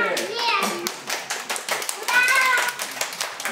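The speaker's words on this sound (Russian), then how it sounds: "Аплодисменты!" Children at a fifth birthday party in a shopping-centre play venue clap and cheer together after singing, with excited kid voices and scattered claps filling the short burst close by.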